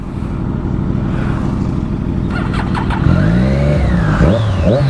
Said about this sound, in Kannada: ಏನು ಸೌಂಡು ಗುರು ಡೇಟೋನಾ ಅದು.